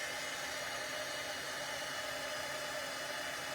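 A heat gun blows a steady, even hiss of hot air to melt embossing powder on paper, faint and continuous with no talking.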